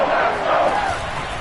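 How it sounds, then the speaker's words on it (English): A crowd in an American football video game cheers loudly as a big third down approaches, a dense, roaring swell of voices that is strong at first and eases slightly toward the end. "The crowd getting into it as we come up on a big 3rd down"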